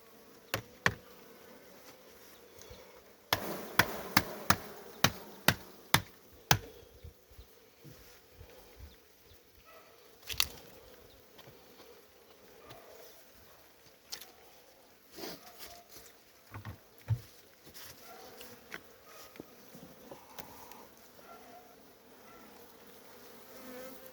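Honeybees on a hive frame, a faint, steady buzz with scattered sharp taps and clicks clustered early and then spread out, heard up close in a quiet setting.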